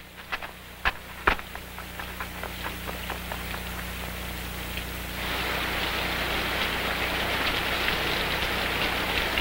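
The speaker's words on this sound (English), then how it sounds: "It started to rain." Rain falls steadily, starting as scattered drops tapping a surface and then swelling into a dense, even hiss of rainfall, with no voices.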